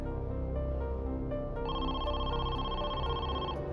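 A telephone rings with a steady electronic tone that changes partway through, set against a constant background hum, with no voices heard.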